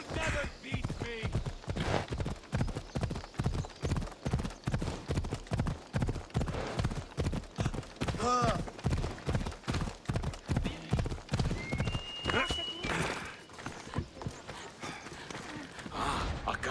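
A horse galloped by the player in Assassin's Creed Odyssey, with rapid, steady hoof clip-clops throughout, occasional snorts and a whinny, and a brief game voice.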